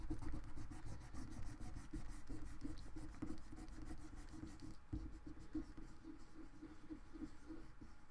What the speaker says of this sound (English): as I erase, it does kind of, I guess it kind of rubs off, takes off a little bit of the ink